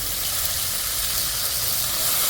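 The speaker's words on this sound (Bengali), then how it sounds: "মশলা বাটার বাটিটা ধুয়ে একটু জল দিয়ে দিচ্ছি" A splash of water hits hot ground spice paste frying in a pan for papaya greens, giving a loud, steady hiss and sizzle that fills the whole moment without any voices.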